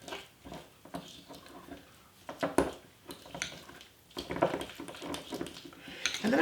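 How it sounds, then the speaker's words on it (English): A spoon scrapes and taps in a bowl as dried sage herb seasoning is mixed with salt, making irregular soft clinks and gritty stirring sounds close by. "I'm going to just mix this herb seasoning together"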